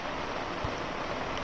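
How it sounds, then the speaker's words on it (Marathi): Steady monsoon rain falls on a landslide-struck village, a dense, even hiss with one soft low thump, continuous and without voices. "आता पुन्हा एकदा पावसाला सुरुवात झाली"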